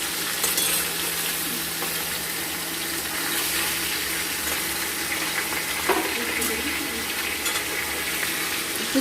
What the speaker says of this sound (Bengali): তেলটা গরম হয়ে গেছে, এবার আমরা মাছগুলো ছেড়ে দেব।